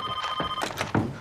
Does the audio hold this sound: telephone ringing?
yes